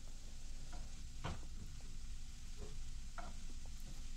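Food sizzles in a pan on the stove while being stirred, a steady frying hiss with occasional scraping stir strokes, moderately close and without talk.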